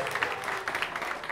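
Brief, faint applause from an audience at a live concert: a short burst of scattered clapping.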